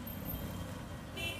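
Road traffic near the Murudeshwar temple in Karnataka hums quietly and continuously, and a brief car horn toot sounds near the end.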